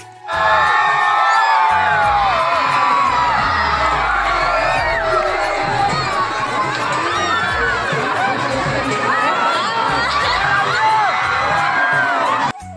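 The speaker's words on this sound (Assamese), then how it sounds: "মামাক লগ পাই সকলোৱে কিমান যে চিঞৰিছে" A large crowd at an outdoor gathering shouts, whoops and cheers excitedly at close range, a dense continuous roar of many voices holding loud for the whole stretch.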